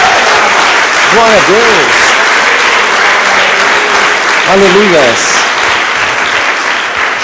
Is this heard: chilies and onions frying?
no